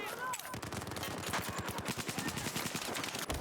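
Rapid gunfire from the video game Battlefield 4, a dense stream of automatic shots firing in a steady rattling rhythm throughout, loud and close, with faint talk in the background.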